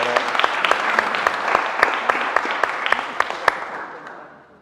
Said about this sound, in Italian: Facciamo un applauso anche a loro